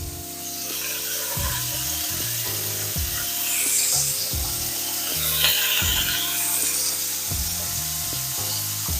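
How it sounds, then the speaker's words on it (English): Ramen stir fry frying in a greased pan, a steady loud sizzle lasting the whole stretch, with a recurring mechanical hum pulsing underneath. "We're just gonna fry up all that right here."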